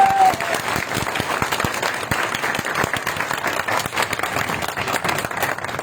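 An audience at a police award ceremony in Islamabad claps loudly in dense, continuous applause, close and steady throughout, with no voices rising above it.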